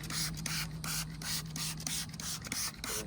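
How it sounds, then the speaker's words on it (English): Spray bottle misting cleaner onto a 4L80E transmission, a run of short, close hissing bursts in a quick repeating rhythm, with faint rubbing between the squirts. "got my spray bottle like always. And I just come back in here and I just spray it and let it sit."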